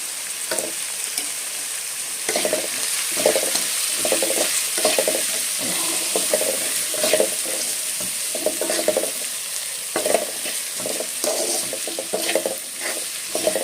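Green chillies sizzle in hot oil in a pan for a sweet pumpkin gojju, with a spoon repeatedly scraping and stirring in an irregular rhythm, close and steady throughout with no talking.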